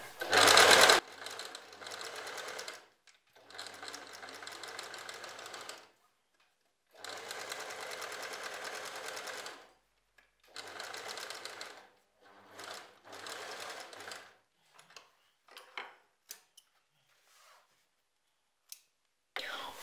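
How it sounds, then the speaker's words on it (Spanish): A sewing machine runs a pespunte stitch along a French seam in several bursts of steady whirring, separated by short pauses, with faint clicks and soft handling near the end. "Vamos a pasar el pespunte y luego lo plancharemos."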